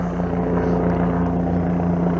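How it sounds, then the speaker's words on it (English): A helicopter flies overhead, a steady, loud rotor drone with a strong low hum and constant pulsing, unbroken for the whole stretch. "Oh, look, it's a helicopter."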